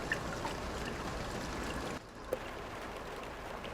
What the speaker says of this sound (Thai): น้ำฝนที่กระทบพื้นนะครับเห็นไหม